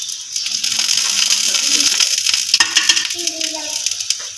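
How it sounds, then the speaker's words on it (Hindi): Ghee sizzles on makki roti (maize flatbread) on a hot tawa griddle. The steady bright hiss of frying carries throughout, with a few light clinks and scrapes of utensils near the end. "अब घी लगाएंगे। घी हमने पहले भी तवे पे लगाया।"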